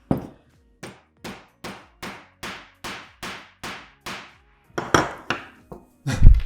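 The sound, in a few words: hammering a threaded nut into wood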